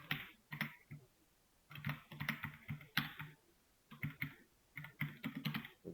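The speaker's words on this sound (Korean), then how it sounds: "여기에 들어가야 될 텍스트가 일단은 그냥 강제로 타이핑을 해보겠습니다." Someone types on a computer keyboard during a web-development lesson, a steady run of quiet, close key clicks in uneven bursts with short pauses between them.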